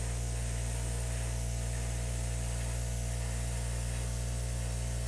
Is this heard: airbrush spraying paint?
yes